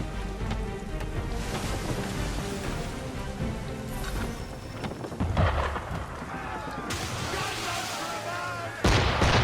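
Enemy ship cannon fire in Assassin's Creed 3, heavy booming blasts and rumbling impacts layered over a continuous dense roar, with a louder burst near the end.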